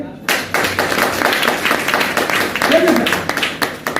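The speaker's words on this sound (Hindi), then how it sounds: "एक बार ताली बजाइए।" An audience at an RCM business seminar breaks into dense, loud clapping that carries on steadily for several seconds, with some voices mixed in.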